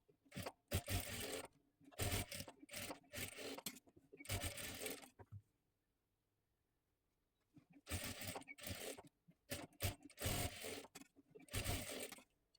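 A sewing machine double-stitches the shoulder seam of a dress, running in several quick close bursts with a clear pause midway, loud and without voices.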